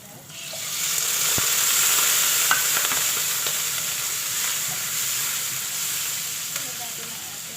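Sausage frying in a pan, a loud, steady sizzle and crackle with scattered pops and spatters, lasting several seconds close up.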